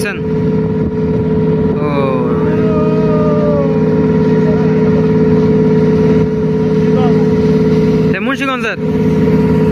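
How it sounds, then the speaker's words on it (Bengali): A passenger launch river ferry approaching at speed, a loud steady engine drone with a sustained low hum, a whistle-like tone midway and a brief horn blast near the end, with a voice talking over it. "লঞ্চ আসতেছে, কতটা স্পিড নিয়ে আসতেছে দেখছেন?"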